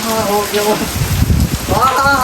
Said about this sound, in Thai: ฝนตก อีกแล้วพี่น้องเลย